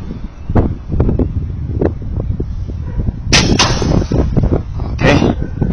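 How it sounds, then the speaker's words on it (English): Gunshots from pigeon shooting with an Oneleaf NV100Plus night-vision setup ring out as a few sharp, loud cracks in quick succession, over steady wind and rustle. "They keep coming, I keep shooting."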